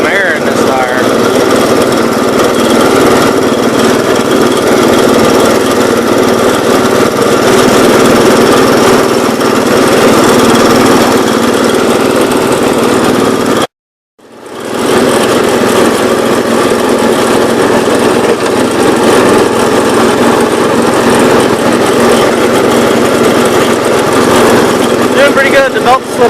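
A 1970 Gravely 408 walk-behind tractor engine runs loudly and steadily outdoors with a slipping belt, cutting out abruptly for about a second midway before roaring back, with wind and a voice talking over it.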